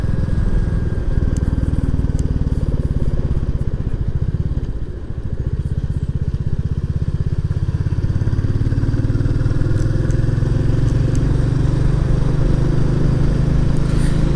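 A Royal Enfield Classic 350 motorcycle engine thrums steadily while riding, a loud, continuous low-pitched drone with a brief dip partway through before it settles back into an even throb.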